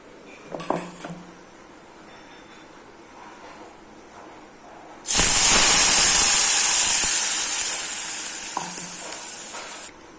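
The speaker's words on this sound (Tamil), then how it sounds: "கொஞ்சமாக எண்ணெய் ஊற்றி அரை டீஸ்பூன் கடுகு போட்டுட்டு அதுக்கு பிறகு ஒரு இனுக்கு கருவேப்பிலை போட்டு தாளிச்சாச்சு" Mustard seeds and a sprig of curry leaves drop into a little hot oil for tempering; after a few faint clinks, a loud sudden sizzle erupts and hisses steadily, fading slightly over several seconds.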